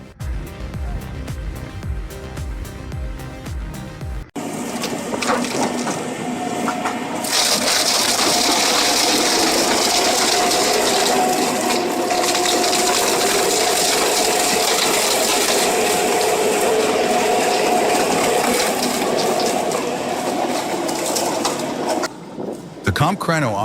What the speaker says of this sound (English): Each rotation applies consistent torque, reducing hardwood stumps into fine mulch in seconds.